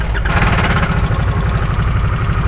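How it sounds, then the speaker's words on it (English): A 2022 Harley-Davidson Nightster motorcycle engine running close by, a loud, steady, rumbling throb right after a brief starter whine at the very beginning, with no talk. "We're gonna start on the bike."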